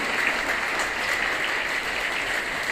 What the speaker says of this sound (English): Let us put our hands together and give a round of applause to our Sister Provincial for her presence and inspiration.